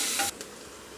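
Onions sizzle and hiss in a hot pan while cooking masoor dal pulao, a brief loud fry that fades quickly as they are stirred.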